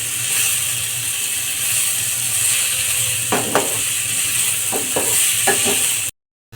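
Potatoes and masala frying in a pan for aloo methi, a steady sizzle under a few scraping stirs of a spoon midway, close and fairly loud, ending abruptly.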